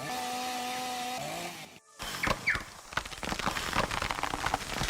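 Chainsaw in a silviculture tutorial video game: a steady motor drone with tonal hum cuts out briefly, then returns as rough, crackling cutting noise with irregular bursts and snaps.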